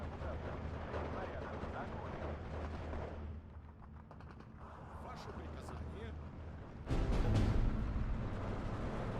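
Artillery fire in the Steel Division 2 game rumbles as a steady low battlefield din with distant booms, swelling into a louder, heavier blast near the end while someone talks over it.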